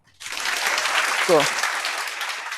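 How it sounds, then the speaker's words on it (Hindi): A dense burst of audience applause starts abruptly and continues steadily, with a brief voice rising over it partway through. "अब तालियां बजाओ"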